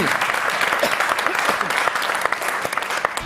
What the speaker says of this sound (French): Eh bien, j'aimerais qu'on applaudisse Olivier Reiss de OnePoint.